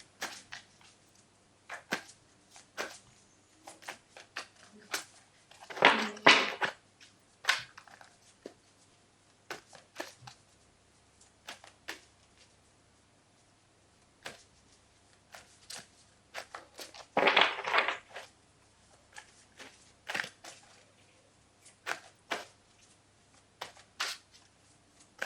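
Tarot cards shuffle on a table with soft papery riffles and scattered light taps, two louder, longer bursts of shuffling standing out among quieter intermittent rustles.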